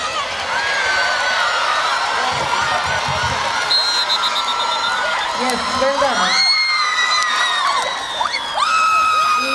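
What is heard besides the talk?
students cheering at a college tug of war event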